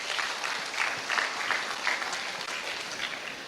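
An audience at a guest talk claps together, a moderately loud, slightly uneven patter of many hands with a few sharper individual claps standing out, continuing steadily to the end.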